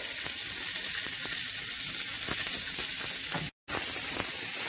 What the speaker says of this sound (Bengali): আমি যে বেল পেপার বা ক্যাপসিকামগুলো কেটে রেখেছিলাম সেইগুলোকে। এবারে সব শুদ্ধ একটু হালকা ফ্রাই করে নেব।